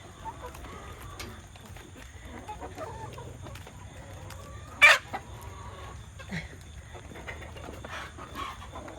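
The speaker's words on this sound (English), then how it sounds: "these little chickens, they're working on them a head of cabbage." Chickens peck and cluck softly over a head of cabbage on a rainy day, with scattered low clucks and rustling at close range and one sharp squawk midway.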